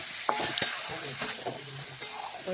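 Salted cauliflower pieces stirred and fried in a pan: close, repeated scraping and clattering strokes over a steady sizzle, with no talking.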